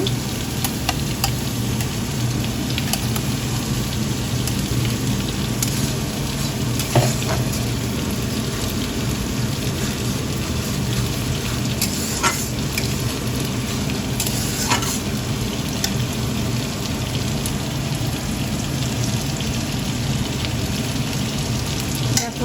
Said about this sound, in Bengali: এদিকে দেখো পেঁয়াজটা এবার দেখো মশলাটা দিয়ে দিচ্ছি